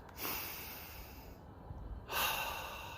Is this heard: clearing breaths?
yes